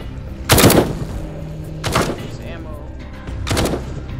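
Three sharp, loud gunshots ring out at spaced intervals in the Firewall Zero Hour shooter game, each with a short decay, while a voice talks faintly in between.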